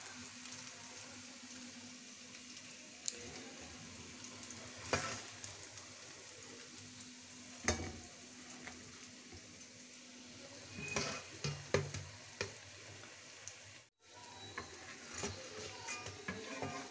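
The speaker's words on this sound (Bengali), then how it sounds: "উল্টিয়ে পাল্টিয়ে পেঁয়াজগুলো ভেজে নিলাম।" Lentil fritters (piyaju) frying in a wide curry cooker and being turned, with a faint steady sizzle broken by occasional soft scrapes and clinks.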